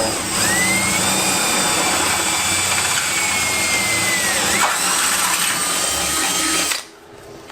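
A power drill whines steadily while enlarging a hole in a body kit fender on a Mercedes 190E Evo 2, its pitch shifting as it works, then cuts off abruptly near the end.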